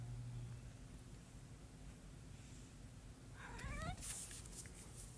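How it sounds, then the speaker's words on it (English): A pet cat lets out a short, rising meow or two near the end, moderately close over a quiet room with a faint hiss underneath. "And my cat just joined us."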